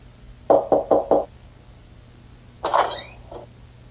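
Cartoon knocking on a door: four quick, evenly spaced raps, loud and close, then a pause and a short squeaky cartoon sound effect, with no speech.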